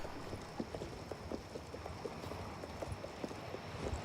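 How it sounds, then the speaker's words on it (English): Horse hooves clip-clopping at a quick pace in the video game Oblivion Remastered, a steady run of soft, muffled footfalls set against a faint rain-like hiss. "it's actually a very fast horse."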